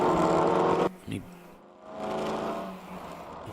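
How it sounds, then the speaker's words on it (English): BMW E30 race car engine at a ChampCar endurance race at VIR, a loud steady drone that cuts off sharply after the first second, then returns quieter beneath a commentator's talk. "back down that engine noise for you"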